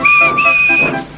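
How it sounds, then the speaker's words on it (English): The steam engine Edward's whistle in a Trackmaster animated remake of The Three Railway Engines gives one clear, loud, sustained two-tone blast with a slight hiss, heard alone and close. "And he blew his whistle."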